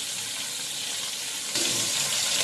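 Koi fish fry in hot oil in a pan with a steady, dense crackling sizzle close up that swells louder partway through, probably as pieces are turned.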